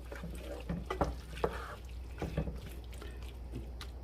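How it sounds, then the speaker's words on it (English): Chili powder being stirred into a pot of simmering chili, with soft scraping strokes and wet clicks of the spoon against the pot over a low sizzling background. "And then we stir this in."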